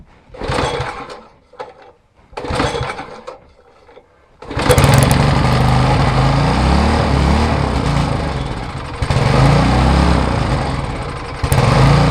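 A Craftsman tiller engine sputters in a few short, faltering bursts, then catches and runs loud and steady at close range, with its roar swelling briefly near the end.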